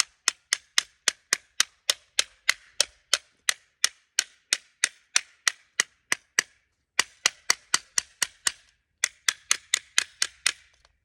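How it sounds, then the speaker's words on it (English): Sharp metallic strikes on a Sig P320 pistol simulating a drop, about thirty evenly spaced cracks in quick regular rhythm, with two short pauses, close and crisp, no voices. "hit this gun to simulate it being dropped that might cause the gun to go off"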